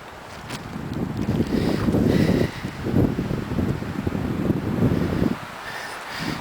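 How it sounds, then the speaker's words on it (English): Wind gusting through a forest of heather and huckleberry bushes, surging rumbles and rustling that buffet the microphone, rising and easing over several seconds. "Now listen to that wind."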